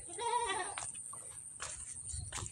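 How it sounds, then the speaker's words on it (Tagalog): Goats bleat in a pen, a wavering call near the start followed by fainter animal sounds and brief noises. "Punta ko dito sa kulungan ng kambing."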